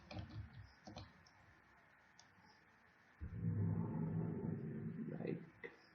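Keys pressed on a computer keyboard while building a pharmacy management program in C#, heard as scattered light clicks followed by a denser run of tapping over a low background hum.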